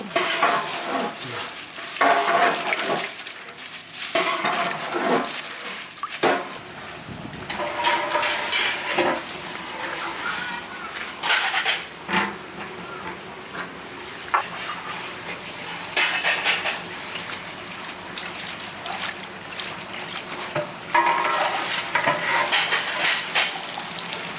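Goat meat stirred and fried in a large pot for a village wedding feast, with continuous sizzling and repeated scraping, clanking stir strokes throughout, close and loud, no talk.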